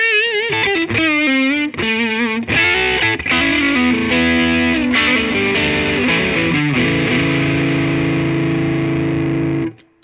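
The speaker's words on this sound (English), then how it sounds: "Let's hear that with a little distortion." A 2014 Gibson Les Paul Standard on its neck humbucker is played through distortion: a fast, gritty lead phrase followed by sustained, buzzing chords that ring out loudly and then cut off.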